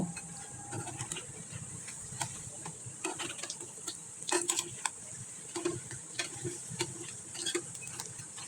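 Rice flour chips frying in hot oil, giving a steady crackle with scattered sharp pops and sputters close by, with no talking.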